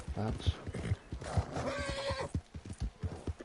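A horse whinnies in the Red Dead Online video game, a rising neigh in the middle of the clip with hoof clip-clops around it, while a person talks over it.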